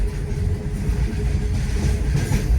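A Konkan Railway train running through a forested stretch with tunnels, a steady low rumble and rattle of the moving carriages heard close from onboard, with no talk.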